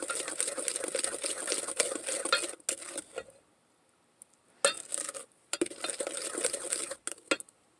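A spoon stirs gluten-free chocolate chip cookie batter with oil and vanilla in a bowl, making fast rhythmic scraping and clinking in two long bursts separated by a quiet pause, close and fairly loud.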